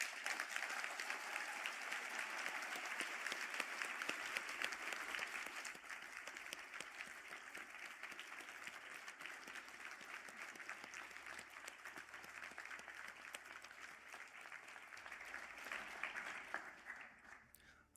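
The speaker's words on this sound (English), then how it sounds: "I'd ask the graduates of the Bachelor of Science Honours in Sport and Exercise Science to stand for a well-deserved round of applause." A crowd at a university conferring ceremony in Galway applauds graduates of a Sport and Exercise Science honours degree: long, even clapping from many hands that holds steady, then tapers off at the end.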